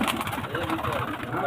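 Baby pigeons coo softly at a pigeon keeper's home, low repeated coos close by under a dense bed of ambient noise and background voices.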